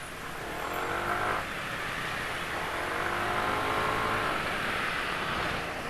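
A Honda PCX 160 scooter engine runs throughout at steady close range, giving a broad, even motor and exhaust drone with slight rises in revs and no talking.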